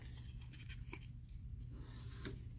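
Scissors snipping a piece of paper for a scrapbook, a few quiet crisp cuts spaced irregularly over a faint low hum, close and soft with no talking.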